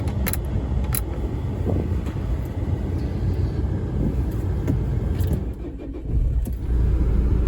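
A car engine turns over and runs with a loud, continuous rumble throughout, close by, with no talking.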